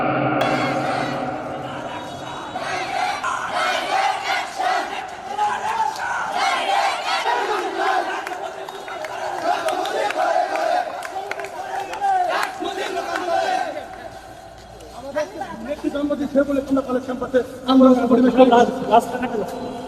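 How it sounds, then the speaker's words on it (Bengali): A crowd of female students at Government Bangabandhu College chants loudly in unison during a protest march on campus, rhythmic call-and-response shouting with echo, a short lull, then one voice speaking near. "পরে সরকারি বঙ্গবন্ধু কলেজের ছাত্রীদের দিয়ে ক্যাম্পাসের ভেতরে প্রতিবাদ মিছিল করেন তারা।"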